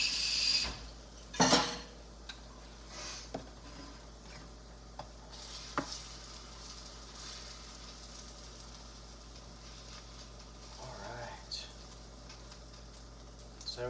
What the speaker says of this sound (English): Let the eggs cook up a bit.